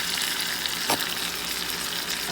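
Hot honey garlic sauce with sriracha being stirred in a frying pan around salmon fillets, a steady close sizzle with one brief utensil scrape partway through and no talking.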